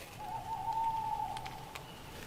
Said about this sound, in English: That's just the owls.